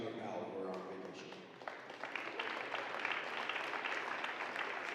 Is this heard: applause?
yes